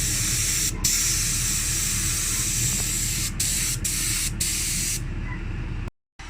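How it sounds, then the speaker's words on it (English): A steady spray can hisses close up in long bursts while spray painting a sports bottle, broken by a few brief pauses and a short silence near the end. "giving you a nice spray"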